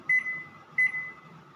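Two short, sharp electronic beeps from a microwave oven as its timer is set while baking a homemade chocolate cake, spaced under a second apart over faint background hum.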